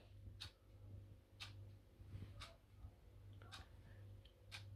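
A wall clock, bought on eBay and fitted with new hands, ticks sharply about once a second in a quiet kitchen, close and clear over a low steady hum.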